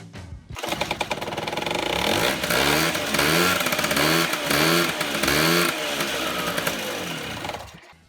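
A motorcycle engine running after an improvised roadside repair of stripped splines revs repeatedly in loud rising and falling surges close by, then cuts off near the end.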